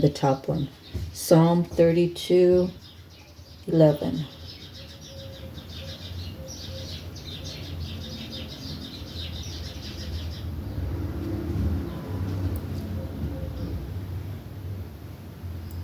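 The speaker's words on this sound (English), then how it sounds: "If you hear the birds outside, I feed them" A voice speaks briefly at the start, then soft bird chirps and tweets carry on in the distance over a steady outdoor hum.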